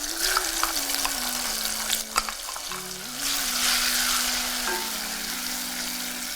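Crushed pepper and onions fry in palm oil with a steady sizzle, while a spoon stirs and scrapes the pot at intervals. No one speaks over the close, continuous cooking noise.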